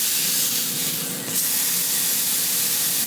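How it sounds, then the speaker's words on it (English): Taco-seasoned beef mince sears in a very hot frying pan with a loud, steady sizzling hiss that swells briefly partway through, heard alone without talk. "I am going to whack this into a very hot frying pan to almost sear it before I break it up so it goes nice and crispy"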